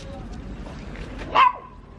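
A dog gives a single short bark or yelp near the end, brief and moderately loud over a low background hum and faint murmuring.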